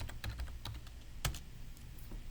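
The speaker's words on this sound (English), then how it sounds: "We'll type in the name of our server and the name of the database." Computer keyboard typing while entering SQL Server server and database names: a quick run of close, crisp key clicks with a couple of louder strikes, no voices.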